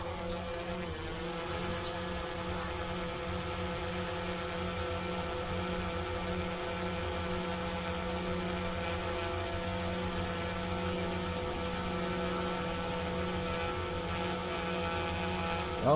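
A DJI Mavic 2 Zoom drone spinning up for automatic takeoff, its propellers giving a steady close whine with layered tonal hum throughout.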